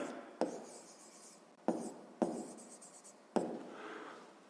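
Pen or pencil writing out a sixth-grade math word-problem solution on paper, four distinct scratchy strokes each starting with a sharp tap and trailing off, close and quiet with no speech.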